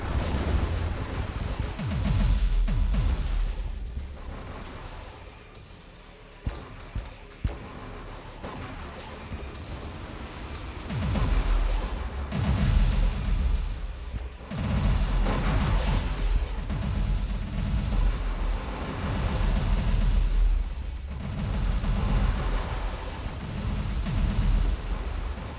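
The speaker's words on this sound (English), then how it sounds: "We also can bombard their colony." Orbital bombardment of a colony in the space strategy game Distant Worlds 2, heard as loud, continuous rumbling blasts and booming impacts that roll on for the whole stretch with only brief dips.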